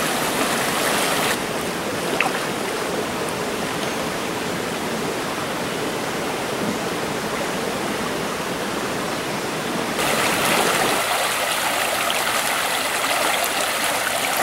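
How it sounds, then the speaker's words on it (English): Fast stream water rushes down into a long pocket on a river being fished, a steady, loud, broadband roar that fills the whole stretch with no voices. "We have some fast water coming down in"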